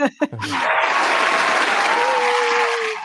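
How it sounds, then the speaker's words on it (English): Applause for a podcast guest at a live podcast meetup. A couple of short voice sounds come first, then a sustained wash of clapping from a small room crowd that carries steadily to the end, with a faint tone running beneath it. "You want some applause, Jag? You deserve it."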